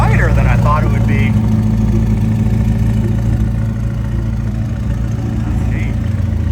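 A McLaren sits running at a car show, its engine idling with a steady low hum and slight revs underneath while people talk nearby throughout.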